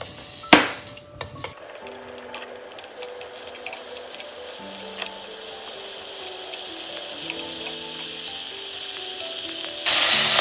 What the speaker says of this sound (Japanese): まず豚肉から入れてきます。